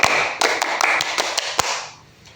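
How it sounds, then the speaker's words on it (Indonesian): Scouts perform a Pramuka rhythmic clap, a patterned series of sharp, distinct claps in a quick cadence that ends with a final loud clap before fading out. "Tepuk pramuka."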